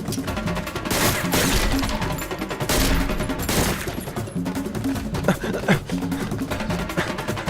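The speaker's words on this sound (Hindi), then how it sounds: "लगता है गोली चलानी पड़ेगी।" Several sharp bursts of gunfire crack out in quick succession, loud and close, with rapid volleys separated by brief gaps.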